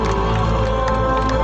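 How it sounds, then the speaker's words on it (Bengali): An audience at the closing ceremony of the 26th Kolkata International Film Festival applauds, with dense, steady clapping and crowd noise filling the whole moment. "প্লিজ একটু উষ্ণতার সঙ্গে হাততালি দিন আপনারা সকলে"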